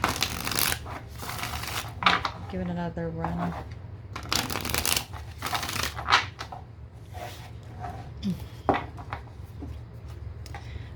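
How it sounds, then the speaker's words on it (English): Cards are riffled and shuffled in several crisp bursts, with a person speaking intermittently between them, close and clear. "Let me go ahead and shuffle this."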